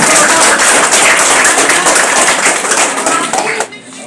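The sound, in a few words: audience applause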